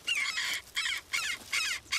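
Jackdaw chicks and adults call at Leutstetten Palace in a quick series of about five harsh, raspy caws, each short burst separated by brief gaps, close and clear with no talk.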